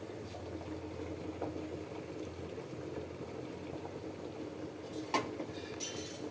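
Rice boils in a pot of water with a soft, continuous bubbling and gurgling, broken once by a sharp metallic clink near the end, with no speech.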